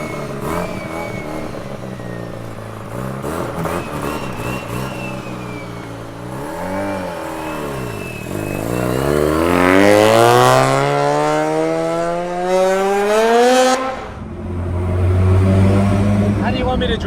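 A Mazda RX7 engine pulls hard through one long gear, its rising, buzzy rotary note climbing steadily for many seconds before lifting off, loud and close from inside the car.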